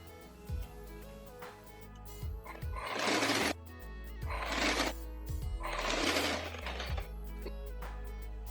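A sewing machine runs in three short bursts while stitching a seam on a floral print long gown, its whirring set against steady background music.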